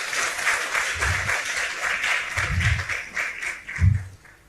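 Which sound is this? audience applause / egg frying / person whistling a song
audience applause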